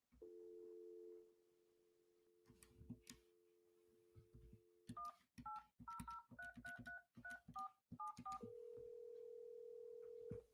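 A phone dials the Dish customer service line: a steady dial tone, then a quick, uneven run of touch-tone key beeps, and finally a long unbroken tone, all clear and close with no talking.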